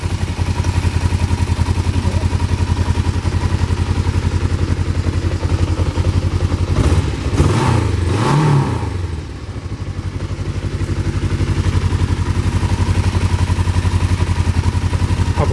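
A 1991 Kawasaki GPZ 500S motorcycle engine idles steadily and close by, a constant low throbbing hum that briefly swells with a couple of blips before settling back to a smooth idle.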